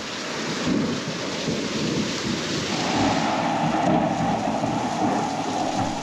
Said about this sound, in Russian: Такой ливень над нами прошел с грозой мощный.